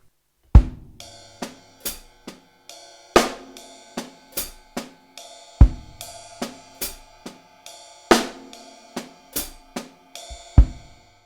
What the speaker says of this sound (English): we're gonna see some grooves in 6/8 using the left foot as part of the subdivision